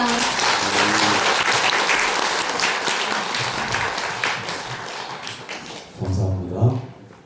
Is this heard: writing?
no